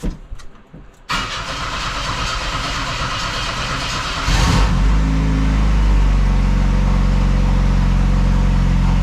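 After a moment of quiet, a car engine with a newly replaced in-tank fuel pump cranks and catches, runs steadily, then revs up louder and settles into a strong, close idle.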